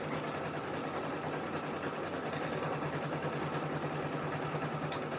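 An embroidery machine stitches out a design, giving a steady, continuous mechanical hum with a faint, even rhythmic buzz that runs unbroken throughout.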